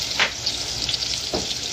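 Tomatoes hit a hot pan and sizzle steadily, a bright frying hiss with a couple of brief scrapes of stirring, close by and alone.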